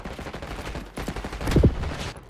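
Gunfire in Black Ops 6 rattles in a dense fusillade, with rapid overlapping shots and a louder close burst near the end.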